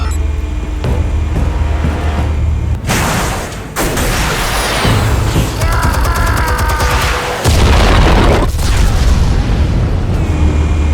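Explosives detonate in Batman: The Telltale Series, heavy booms with crackling gunfire-like bursts and rumbling debris, loud and continuous across the stretch.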